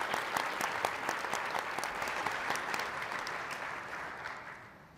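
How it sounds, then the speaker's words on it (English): A full room applauds at a South Carolina community forum, the clapping dense and even at first, then gradually fading away toward the end. "is worth a round of applause"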